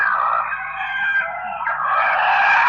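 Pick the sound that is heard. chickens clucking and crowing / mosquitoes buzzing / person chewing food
chickens clucking and crowing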